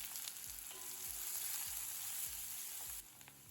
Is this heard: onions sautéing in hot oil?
yes